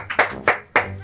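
Audience clapping at a Mother's Day special show, four distinct close, sharp hand claps in a brisk, slightly uneven rhythm.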